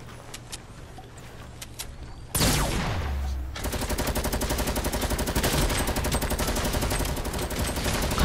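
Video game gunfire: quieter scattered shots and movement give way to a loud swelling blast, then a rapid, steady automatic burst that rattles on continuously to the end, near and dominant.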